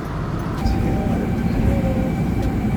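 Inside a Japanese metro train, a loud, steady rumble of the moving carriage fills the space, with faint squeals and hum above the low roar and no talking.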